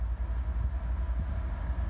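A westbound CSX auto rack freight train passes, heard as a steady low rumble and rolling roar that holds evenly throughout without a horn.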